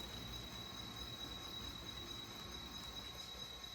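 A Santa Fe passenger train, led by locomotive 74, eases into its station stop at Granbury, wheels squealing in a steady high whine over a low rolling rumble.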